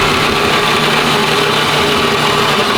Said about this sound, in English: You got to manhandle the drill